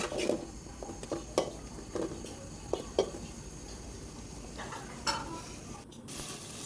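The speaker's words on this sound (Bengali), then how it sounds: "ভালোভাবে নেড়ে চেড়ে নেব এবং মশলাটা সুন্দরভাবে কষিয়ে নেব" Spice paste of salt, cumin, coriander and chili powder fries in a pan while being stirred, with a low sizzle under several distinct scraping and tapping strokes of the spoon, then a quieter stretch.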